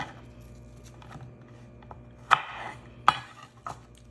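A knife slices apples into thin pieces on a board, giving two or three crisp, separate cuts against a quiet kitchen background.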